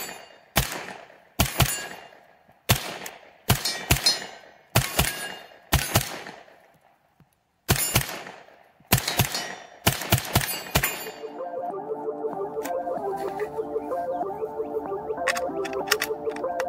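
A suppressed CZ Scorpion SBR with a micro K conversion fires 115 grain ammo outdoors, about a dozen loud, sharp reports spaced roughly a second apart, then a fast rattling burst of rapid shots near the end.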